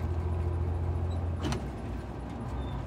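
Car rolling along a road in Spain as traffic starts moving again after a slowdown, a steady low engine and tyre rumble throughout with a brief knock near the middle.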